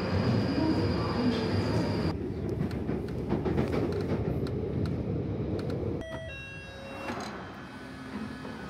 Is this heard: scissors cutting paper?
no